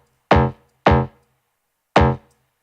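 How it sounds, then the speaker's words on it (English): Three separate low electric bass notes from an Ableton Live pack, each a deep plucked tone that rings and fades, with the third coming after a longer gap. "And this is the low part of the bass."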